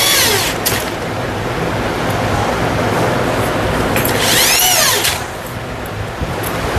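Power drill driving screws into an iron box stand, a steady whirring drone running through with rising and falling pitch sweeps as the bit spins up and bites.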